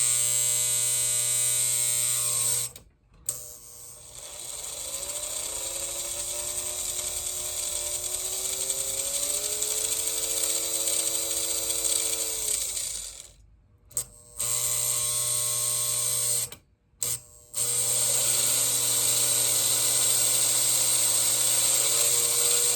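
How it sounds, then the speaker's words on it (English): A Lionel 520 box cab model locomotive motor runs on the bench with its cab off, giving a steady electric whine with pitch glides as it speeds up and slows, cut by several brief stops. "we'll just do a little bench test before we put the cab back on"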